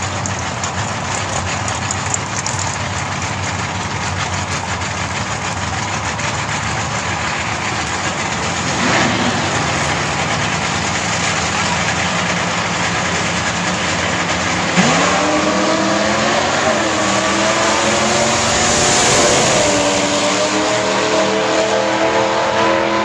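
Loud, sustained engine roar from a Plymouth Fury and an Oldsmobile station wagon drag racing at a Knoxville drag strip, with rising revs and shifting pitch sweeps later on as the cars accelerate.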